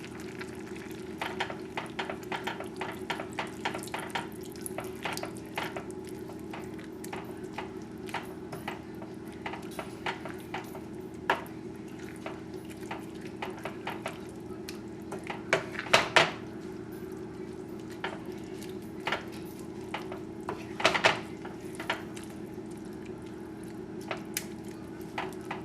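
Cornstarch slurry drizzled into simmering hot dog onions in a pan, giving a steady low bubbling simmer with soft sizzle and scattered small pops and stirring clicks throughout.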